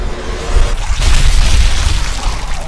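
A sniper rifle shot in the video game Sniper Elite 3, a loud, heavy boom with a long rumbling tail that fills the whole moment, close and dominant with no talk over it.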